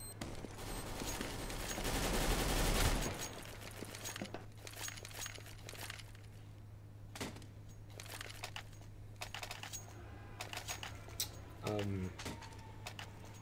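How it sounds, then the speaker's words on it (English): Rapid bursts of submachine gun and rifle fire from a MAC-10 and Galil ring out in a competitive Counter-Strike-style esports match, loudest at first then scattered and fainter, with keyboard clicks and commentator talk underneath. "Sick Toy makes an excellent drop shot with the MAC-10"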